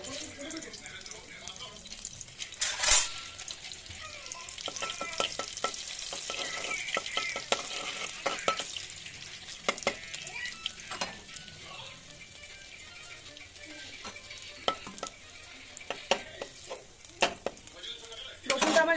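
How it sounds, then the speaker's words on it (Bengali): Chopped garlic sizzles in a little oil for home-style chilli chicken, a close, steady frying crackle broken by frequent sharp clicks and scrapes of a spatula, with occasional talking over it. "ফার্স্টেই আমি এখানে রসুন কুচি দিয়ে দেবো।"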